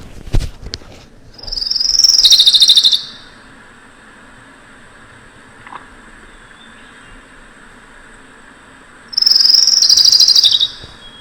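A recorded bird song is played back in two high, buzzy trilling bursts of about two seconds each, separated by a quiet gap, with faint ticks and background hiss between them.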